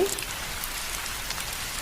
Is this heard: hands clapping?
no